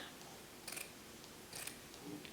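Scissors snip through paper strips for a pineapple luminary, two or three quiet crisp cuts over faint room tone, close up with no talk.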